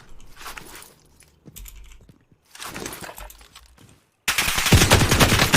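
Cooper Carbine machine gun in the shooter game Warzone Pacific, several short rattling bursts of fire separated by gaps, then a louder, denser, sustained close burst at the end.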